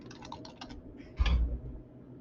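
A name being typed on a computer keyboard, a quick burst of light, close key clicks followed by one heavier thump.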